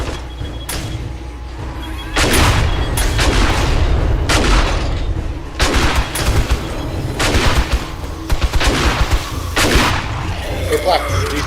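Gunfire in the survival game 7 Days to Die: repeated loud shots in irregular bursts over a constant low rumble of ambience, with the later blasts spaced a second or two apart.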